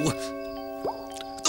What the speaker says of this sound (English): How can anyone get to sleep with all that drip sploshing going on?